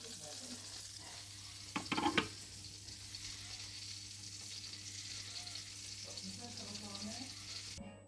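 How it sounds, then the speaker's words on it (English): Leeks dropped into melted butter in a pan, with a short burst of clattering as they go in, then a faint, steady sizzle that continues quietly. "so I'm just going to pop the leeks in now"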